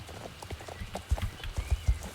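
Hoofbeats of a passage horse in Star Stable Online, a dressage event at an equestrian festival: a quiet run of clip-clops that grows firmer, ending in several heavier, evenly spaced strikes, with no voices.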